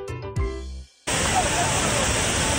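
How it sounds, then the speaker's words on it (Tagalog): Muddy floodwater rushes through a river in Pakistan after two days of rain. After a brief voice and a moment of silence, a loud, steady roar of churning water fills the rest. "Maragasa ang tubig na may kasamang putik sa ilog na yan sa Pakistan"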